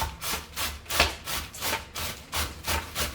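Cucumber is grated by hand for tzatziki, a quiet, even run of about eight rasping strokes, close and alone with no talk.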